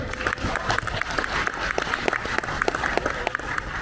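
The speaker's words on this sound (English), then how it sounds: "give yourself a round of applause" Audience applause at an RV rally presentation, a steady wash of many hands clapping at close range with sharp individual claps standing out throughout, fairly loud and sustained.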